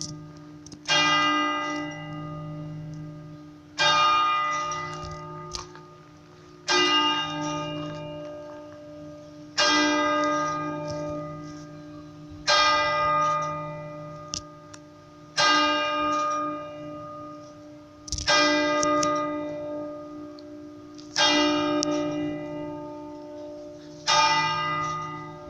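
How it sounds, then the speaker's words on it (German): Church bells of the parish church in Frankenthal near Bischofswerda ringing in a slow, regular sequence of about nine loud strikes, each leaving a long resonant hum, heard from fairly close with no talking. "So, gleich müssten auch die Glocken läuten."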